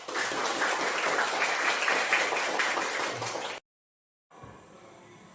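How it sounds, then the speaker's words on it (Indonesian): An audience claps together in a dense, even burst of applause for over three seconds, then it cuts off abruptly into silence before a faint tonal hum. "Tepuk tangan dulu."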